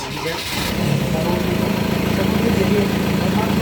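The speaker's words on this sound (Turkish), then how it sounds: "Ford Transit'lerde, partiküllü araçlarda eğer partikülünüz tıkalıysa bu şekilde egzozunuz ilk çalıştırmada yer değiştirecek" A Ford Transit diesel engine with a clogged particulate filter starts and then runs loud and close, a steady, throaty rumble right after the first crank.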